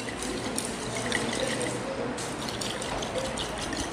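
Water is poured into a soil sample in a conical flask during a school chemistry activity, making a steady, continuous trickling wash that stays even throughout with no talk.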